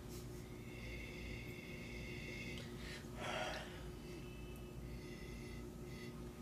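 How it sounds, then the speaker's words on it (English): A person takes one brief, breathy sniff of a glass of Malbec red wine, close and soft against quiet background hiss. "let's give it a sniffy, sniff, sniff."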